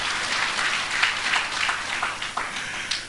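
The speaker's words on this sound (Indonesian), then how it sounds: "Tepuk tangan kita bagi Tuhan." A congregation claps together during a church worship service, a soft, continuous patter of many hands heard from a distance.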